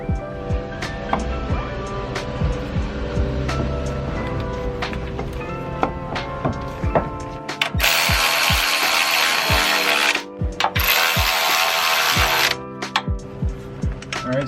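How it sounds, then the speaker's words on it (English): A ratchet works on brake caliper bracket bolts on a 1999–2006 Chevy Silverado 1500 front hub job, giving loud close clicking and metallic mechanical noise, with bursts of broadband hiss partway through. "go ahead and torque these bolts down to 133 foot-pounds"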